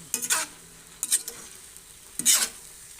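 A utensil stirs sautéed eggplant with sardines in a pan, three separate bursts of scraping and sizzling spaced about a second apart, close and moderately loud, with no speech.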